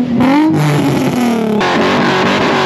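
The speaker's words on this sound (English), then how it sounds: "you hear that engine, buddy?" A loud car engine revs steadily at a car meet exhaust contest, its pitch rising and falling in a continuous roar with no voices.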